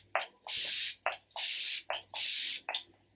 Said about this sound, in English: using my Flower Beauty setting spray